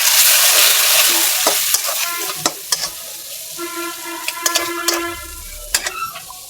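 Spices, including a little radhuni powder, sauté in a pan for a village-style dish of water-lily stems with small shrimp. A loud, bright sizzle carries on under repeated scraping clicks of a spatula stirring close by.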